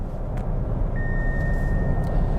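A 2015 Mazda6 AWD sounds a steady electronic lane-keeping warning tone about a second in. It holds unbroken to the end over a constant rumble of road and engine noise.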